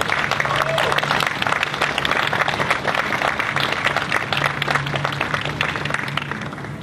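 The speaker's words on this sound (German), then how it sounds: "heißen Sie bitte unseren heutigen Ehrengast mit einem warmen, herzlichen Applaus willkommen" An audience at a Movie Park Germany press event for the Star Trek: Operation Enterprise opening applauds to welcome guest Marina Sirtis, a dense steady wash of clapping that runs the whole time at an even loudness, with voices mixed faintly into the crowd.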